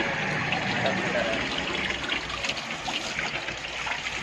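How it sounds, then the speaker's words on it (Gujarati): Water runs steadily from a tap with a constant splashing hiss, while people talk nearby. "નળ ચાલુ પાણી બહુ વેસ્ટ થાય છે"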